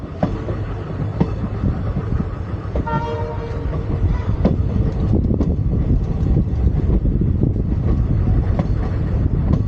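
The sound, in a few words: train arriving at Bhagavathipuram railway station, Kollam–Sengottai line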